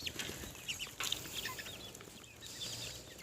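Bantam hens clucking softly as they peck at feed, with scattered short clucks and chirps amid faint yard noise, quiet and fairly close.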